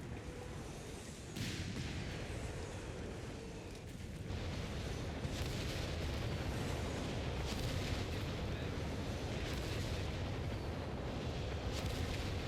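Artillery fire rumbling through a 4v4 battle on the Monte Cavo map in Company of Heroes 3, a dense continuous roar of distant blasts and booms with sharper bursts standing out, steady and loud throughout.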